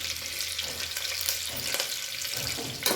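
Curry leaves hit hot oil already holding mustard and cumin seeds for a tempering, giving a steady close sizzle and crackle that runs throughout with a few louder pops near the end.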